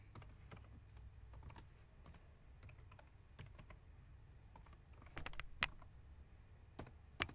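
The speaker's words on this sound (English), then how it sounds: "Here, you can type your program." Computer keyboard typing a program, with quick irregular key clicks at close range, quiet overall, a few louder keystrokes standing out toward the end.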